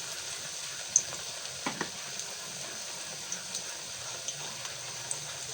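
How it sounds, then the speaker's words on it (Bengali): Battered eggplant slices fry in hot oil, a soft, steady sizzle close by with faint scattered pops and light clicks, no voices. "চলো গরম গরম বেগুনিটা ভেজে নিই"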